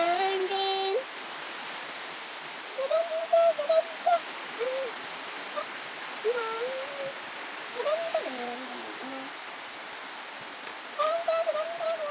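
Heavy rain pours down as a steady, dense hiss throughout, with several people's voices talking intermittently over it.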